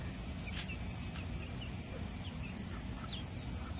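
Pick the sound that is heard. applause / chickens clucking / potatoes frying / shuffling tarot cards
chickens clucking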